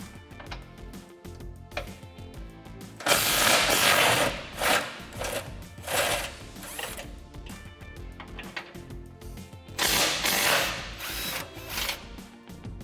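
Ratchet fitted with an 18 mm socket working Jeep Gladiator skid plate bolts, a quiet run of rapid clicking pawl ticks broken by several louder bursts of mechanical whirring, close by.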